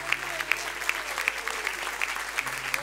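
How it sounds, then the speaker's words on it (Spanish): A church congregation at a Spanish-language service applauds. The clapping is steady and even, fairly quiet and distant in the hall, with a faint room hum underneath. "Le damos un aplauso"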